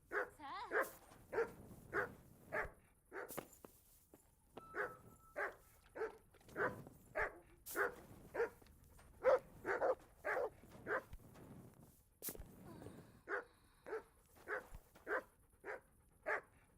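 A dog barks in the video game Nightreign, sharp single barks repeated in a steady, evenly spaced rhythm with a couple of brief pauses, fairly clear and alone.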